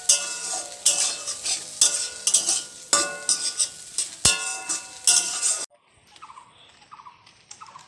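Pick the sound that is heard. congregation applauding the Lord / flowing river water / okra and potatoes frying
okra and potatoes frying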